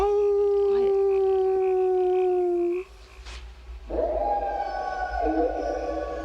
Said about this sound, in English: They've awakened some horny wolves of their own.